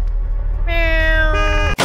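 A cat meows once in the Missing Hiker video game, a clear, drawn-out tonal call that rises and holds before cutting off abruptly, heard close and alone over a steady low background hum.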